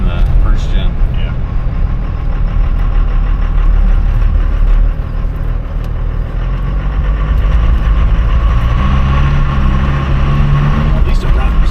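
A 12-valve Cummins diesel truck engine runs steadily with a loud, continuous low rumble, while people talk over it.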